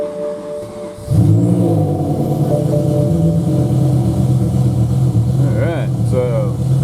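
A BMW M5 V10 engine fires up with a sudden start and settles into a steady, loud idle that runs rough and uneven on half its cylinders, droning continuously close by.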